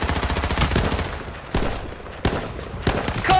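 Rapid automatic gunfire in the video game H1Z1 fires in loud, close bursts broken by short pauses, with no one talking.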